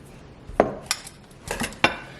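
A metal utensil scoops freshly rendered lard cracklings onto a saucer, giving four close, sharp clinks and scrapes at uneven intervals in a quiet kitchen.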